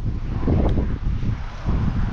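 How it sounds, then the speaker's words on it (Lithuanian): Strong wind buffets the microphone outdoors at a rural homestead, a continuous low roaring rumble with gusts swelling and easing over two seconds. "Šiandien vėjas siaubingas."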